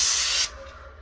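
Airless paint sprayer firing a test pattern onto the side of a surface from about 8 to 10 inches away, a loud steady hiss that cuts off abruptly after half a second, leaving a faint low hum.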